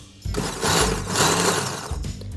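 A hand blender whirs through cut spinach and tomatoes for palak paneer, a close, high whine that starts abruptly, holds for about two seconds with a slight dip in pitch, then drops away.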